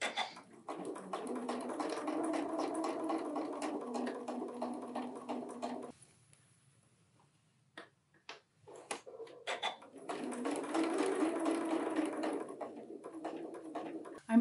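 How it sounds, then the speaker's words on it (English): A sewing machine stitches a facing around a garment armhole in a steady mechanical run, pausing briefly midway, then starting up again and running on, fairly close and loud. "I'm almost to the shoulder seam now, and I'm having a really hard time seeing where I'm stitching."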